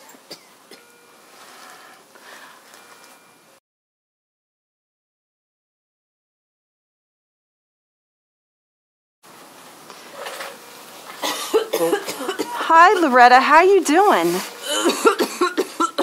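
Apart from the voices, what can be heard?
patient coughing in a burn simulation video game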